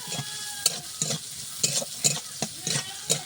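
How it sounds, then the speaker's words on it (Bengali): Onion stirred and frying in mustard oil in a pan, with rhythmic scraping strokes of a spatula about twice a second over a soft sizzle. "এখন নাড়াচাড়া করবো। সুন্দরভাবে একটু কষিয়ে দেব ঝাল পেঁয়াজটা।"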